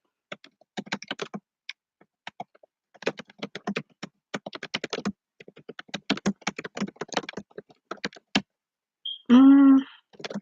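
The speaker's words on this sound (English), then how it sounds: "let me type these" Rapid bursts of computer keyboard typing come in irregular clusters of keystrokes across most of the stretch, fairly close and clear, with a short tonal beep near the end.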